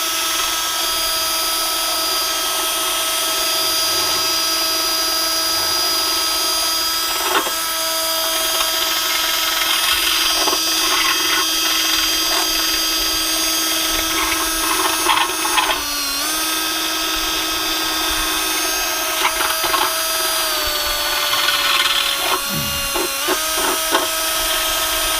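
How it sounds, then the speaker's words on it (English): A drill fitted with a Dremel bit grinds sharp edges on a sailboat mast, a steady high whine running continuously with brief pitch dips and scraping bursts, close and alone. "Putting a Dremel tool bit on my drill"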